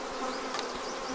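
Honey bees buzz steadily around an open hive during a swarm hiving and split, with smoke being used over the frames; a continuous, fairly faint drone with no talk.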